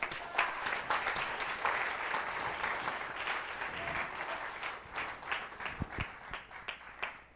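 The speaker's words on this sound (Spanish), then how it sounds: "Denle un aplauso al Señor." A church congregation applauds, with dense, sustained clapping from many hands filling the room and slowly thinning toward the end into a few scattered claps.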